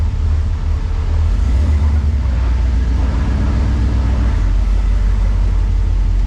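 Jeep TJ engine pulling away, a loud continuous low rumble with steady road-like noise throughout, close to the microphone and with no talk over it.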